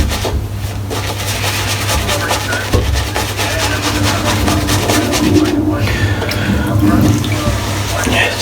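Tap water runs steadily into a sink throughout, a continuous hiss with rubbing sounds layered over it as shaving cream is lathered on a head for a shave.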